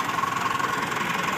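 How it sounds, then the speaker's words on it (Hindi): A farm tractor idles in a village farmyard with a low, even, slightly knocking engine rumble that stays steady and close throughout. "ये है हमारा ट्रैक्टर"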